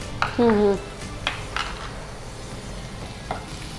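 Capsicum sizzles in a little oil in a cooking pan, with soft stirring and a few utensil clinks near the start and a short tonal squeak, then a low steady frying hiss.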